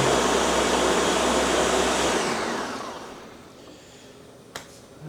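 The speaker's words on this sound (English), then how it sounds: "the temperature finally dropped on this enough to blend it up" A blender purees a crab and seafood mix, its loud steady whirring motor running for about two seconds before winding down and fading, followed by a single sharp click near the end.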